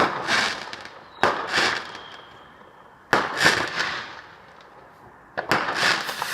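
Fireworks bursting on bonfire night near a house, with three or four sharp loud bangs followed by crackling tails spread across a few seconds, no talking.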